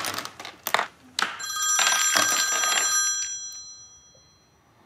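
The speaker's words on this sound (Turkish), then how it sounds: "Telefon çalıyor." A telephone bell rings loudly in a long trilling burst after a few sharp knocks and clatter, then fades out, close by with no talking.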